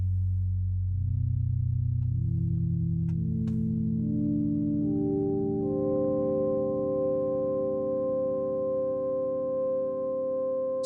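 A synthesizer plays a rising sequence of pure sine-like tones, each held note stacking on the last as the pitch climbs steadily, with no voices.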